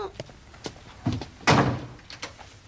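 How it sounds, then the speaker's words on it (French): A door in a period detective drama setting is pushed shut with a firm, close wooden thunk, preceded by lighter knocks and shuffling, and a voice is heard nearby. "Ne reste pas là, allez, va. Et ferme la porte."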